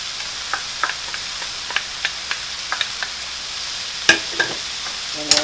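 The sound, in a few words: mushrooms frying in a pan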